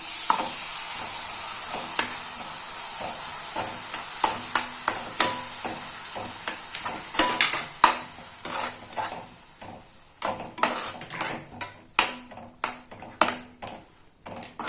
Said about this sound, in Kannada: ಇದು ಎಣ್ಣೆ ಒಳಗೆ ಒಂದು ಸ್ವಲ್ಪ ಫ್ರೈ ಆಗಲಿ.